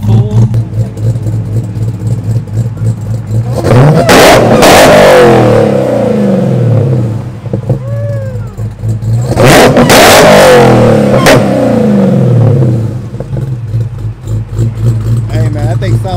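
A 1000hp Dodge Charger Hellcat's engine idles with a low rumble, then is revved hard twice in loud, roaring bursts that settle back to idle, close by, while people chatter around it.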